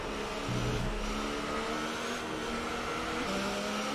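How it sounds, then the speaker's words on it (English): Safety car engine in the F1 2018 racing game held at full throttle, a loud sustained rev with a quick pitch jump early, then a steady drone with a brief climb near the end. "that safety car during these situations is really giving it the beans. It's giving it full of throttle in many cases"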